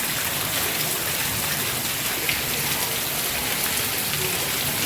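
Torrential monsoon rain pours down in Surat, a loud, unbroken hiss of drops drumming on surfaces close by, with no voices.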